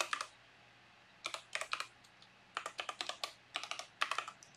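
Someone types a password on a computer keyboard in quick bursts of crisp, close keystrokes, separated by short pauses, in a quiet room with no talking.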